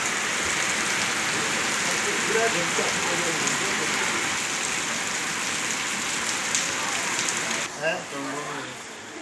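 Steady rain patters heavily on a hard surface close by, a constant dense hiss, with a voice briefly heard near the end.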